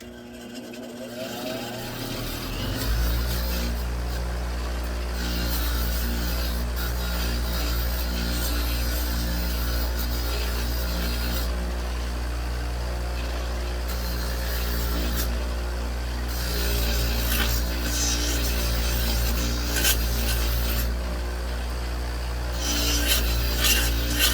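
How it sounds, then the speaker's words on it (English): A wire wheel on a Craftsman bench grinder scrubs a part from a vintage Coleman 200A lantern: a steady, loud whirring rasp that starts after a short quiet moment and runs on continuously, with shifting grinding texture as the part is pressed and moved. "I'm going to take this on my wire wheel on my grinder here real quick."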